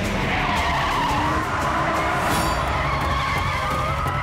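A car's tires squeal and skid loudly through a fast turn, a continuous high screech over engine roar, close and sustained for several seconds.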